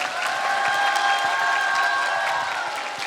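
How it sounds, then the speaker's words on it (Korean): Studio audience applause greets a guest mentor on a Korean youth talk show, a sustained wash of clapping with light cheering and a faint steady tone beneath. "여러분 큰 박수 부탁드립니다"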